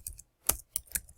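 Several crisp keystrokes on a computer keyboard, a quick tap followed by three sharper clicks spaced about a quarter second apart, close and clear in a quiet room.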